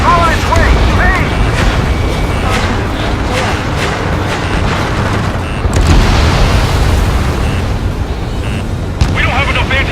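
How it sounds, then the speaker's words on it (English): Dense, heavy explosions and booming missile impacts from Ace Combat 7 roll on continuously at close range. A rumbling barrage layers over engine roar, with a couple of sharper blasts standing out midway and near the end. "Missile on its way."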